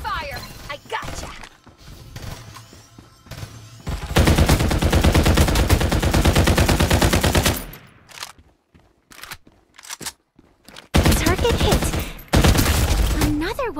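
Loud sustained automatic gunfire in the shooter game Farlight 84 comes in two long bursts separated by quieter footsteps and thuds, close and heavy, with brief game voice lines in between.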